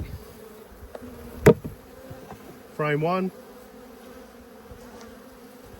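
Honey bees buzz softly around an open hive during an inspection, a low continuous hum with a brief sharp click and a short spoken remark in the middle.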